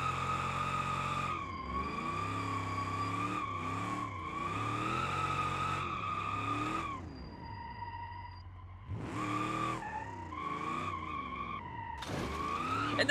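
A car drifts along a mountain road in BeamNG, its engine whining in a sustained, pitch-shifting howl while tires skid, easing briefly before revving hard again, loud and close.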